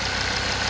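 A used car engine idling with its oil filler cap removed, a steady, dense mechanical rumble close by that stays level throughout with no voices.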